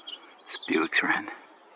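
A Bewick's wren sings a short, bright burst of chirps and trills among Torrey Pines coastal scrub, fairly close and clear over a quiet background.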